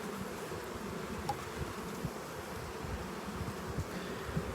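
Honeybees buzzing around an open hive during a full spring inspection, a soft continuous drone of many insects with occasional nearer passes, fairly faint and alone.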